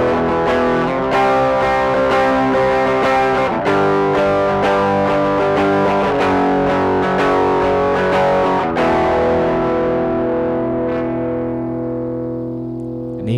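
An electric guitar played through a Providence Sonic Drive SDR-5 overdrive pedal, knobs set at noon in normal mode, giving a distorted, sustained sequence of chords that ends on one long ringing chord.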